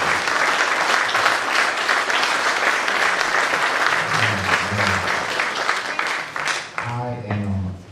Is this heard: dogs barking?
no